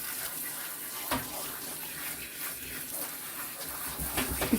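Water from a tap or sprayer rinses a standard poodle puppy in a bath, a steady close-up gush and splash with no pauses.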